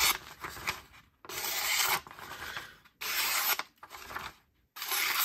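A thin, hollow-ground rust-proof knife slices through material in several long rasping strokes separated by short pauses, close and fairly quiet, with no talking.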